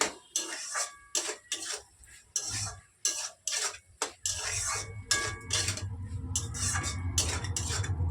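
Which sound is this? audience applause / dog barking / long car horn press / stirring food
stirring food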